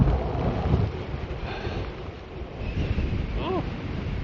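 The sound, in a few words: wind noise on microphone while riding e-bike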